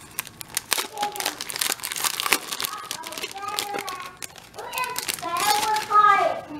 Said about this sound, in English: I guess I'll open up the sheets.